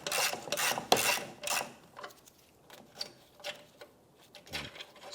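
An 8mm bolt is loosened and removed from the fog light mount on a 2005-2007 Ford Five Hundred, giving faint ratcheting and scraping bursts, a cluster of quick clicks at first, then sparse, quieter ticks.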